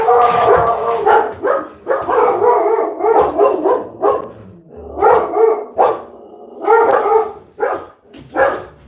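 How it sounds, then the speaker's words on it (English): A dog barks repeatedly in loud, close bursts with brief pauses in between, some sounding yelpy or whiny, with no talking over it. "Dog going by, I apologize."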